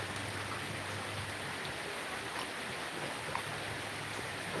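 Rain falls steadily outdoors, a faint even patter and wash with no voices.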